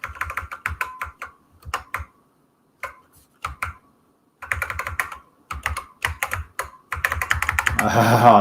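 Arrow keys pressed on a computer keyboard while working with a TI-99/4A and FinalGrom99 cartridge: clusters of quick, crisp clicks in irregular bursts with short pauses, ending in louder noise.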